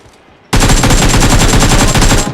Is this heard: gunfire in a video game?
yes